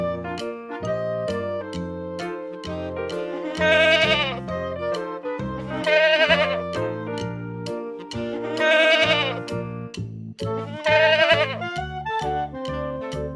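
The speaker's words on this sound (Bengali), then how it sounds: "ছয়ে ছাগল ছানা লাফিয়ে চলে" Goat kid bleats sound four times at regular intervals, loud and wavering, set against a bouncy children's rhyme melody.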